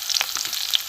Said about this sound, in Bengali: পেঁয়াজ মোটামুটি ভাজা হয়ে গেছে। এতে আমি দেবো পেঁয়াজ কুচি।